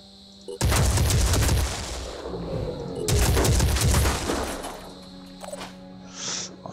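Muffled assault rifle fire in the game Phoenix Point: two dense bursts of rapid shots, each lasting a second or more and separated by a short gap, loud and close, trailing into fainter game effects.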